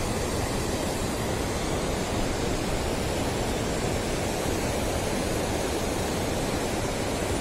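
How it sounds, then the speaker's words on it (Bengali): A strong river current rushes steadily near the Lava monastery area in North Bengal, a loud continuous broadband roar of churning water without pause. "জলের প্রচণ্ড স্রোত রয়েছে"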